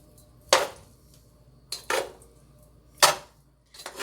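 Metal tongs strike a pot while tossing pasta carbonara, giving four sharp, separate clanks spaced about a second apart against a quiet kitchen background.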